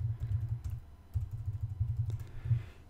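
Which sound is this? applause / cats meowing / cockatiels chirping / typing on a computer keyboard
typing on a computer keyboard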